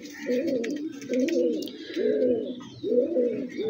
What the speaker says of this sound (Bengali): এখন যে কবুতরটা ছাড়লাম এটা হচ্ছে কি একটা ছাপচিলা কবুতর